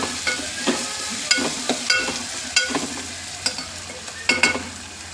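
Chopped onion sautéing in a pan for brinjal ghee rice, stirred with a utensil that makes several distinct scraping clicks over a soft, steady sizzle, fairly close and alone without speech.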